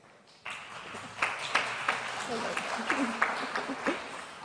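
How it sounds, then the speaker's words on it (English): Audience applause in a conference auditorium after a panel talk, a moderate crowd clapping steadily with scattered louder claps, fairly near, with a few voices murmuring underneath. "So big round of applause, please."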